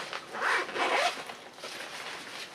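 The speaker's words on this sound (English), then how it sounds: "we've got first one zipper going down" A clothing-style zipper on a camping sleeping bag is pulled down in two quick raspy strokes, close and fairly loud, with no talking.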